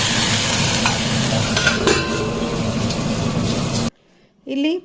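Loud, steady sizzle of a hot pan frying urad dal, chana dal, green chili, coriander and plantain as water goes in for a festival meal, cutting off abruptly before a brief voice speaks.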